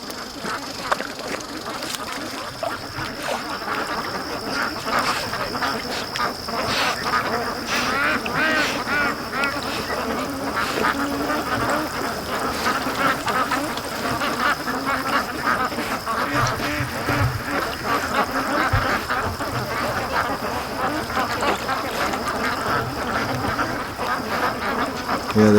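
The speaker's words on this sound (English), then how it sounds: "I heard the quacking and they're coming back." Free-range ducks quack steadily by a lake, a busy chorus of overlapping calls from several birds over a constant outdoor background, with occasional honking and a faint voice.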